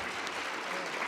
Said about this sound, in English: Yes, give him a round of applause as well.